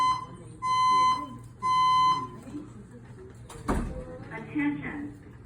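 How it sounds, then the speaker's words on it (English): A school fire alarm sounds in two loud, steady electronic bursts of about half a second each, separated by a short pause, followed by a sharp thud and quieter background noise with faint voices. "Apparently the fire alarm has been set off."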